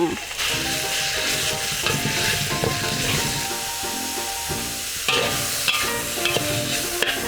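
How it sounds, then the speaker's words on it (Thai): Garlic and minced pork stir-fry in hot oil with a loud, continuous sizzle. A spatula scrapes and clatters against the pan again and again throughout. "น้ำมันฮ้อนแล้วให้เอากระเทียมลง ผัดกระเทียมพอหอมเนาะ แล้วก็เอาหมูสับลง"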